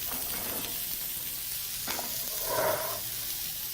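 Soy-marinated beef skewers sizzle softly in a hot skillet over low heat, a steady faint hiss with a brief louder burst of frying near the end.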